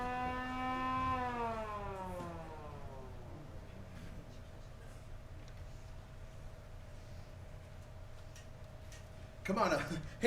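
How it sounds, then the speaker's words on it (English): Car siren sound effect in a live radio play of It's a Wonderful Life, a wailing siren winding down in pitch and then holding a steady faint tone, ending with a brief clatter. "And turn the siren wide open, huh?"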